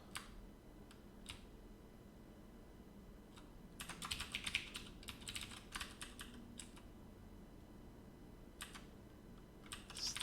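Typing on a computer keyboard comes in short bursts of quiet, crisp key clicks, a few isolated taps, then a quicker flurry of strokes, all faint and close with no voices.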